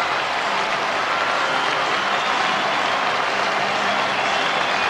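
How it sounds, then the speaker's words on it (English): Football supporters applaud during the lap of honour at the 1997 Scottish Cup Final at Ibrox, Kilmarnock against Falkirk: steady, dense clapping from a large crowd with a continuous stadium roar, no clear voices standing out. "Getting some sporting applause from the Falkirk supporters also"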